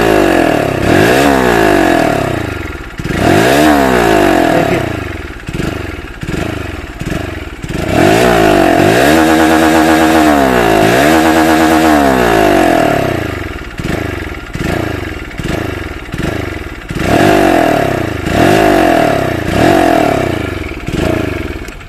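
A 2022 Hero HF Deluxe BS6 motorcycle engine repeatedly revved, surging and dropping in uneven jerky bursts with a rising whine, loud and close, no speech.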